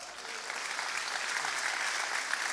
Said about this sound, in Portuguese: Quem acredita nisso, aplauda o Senhor.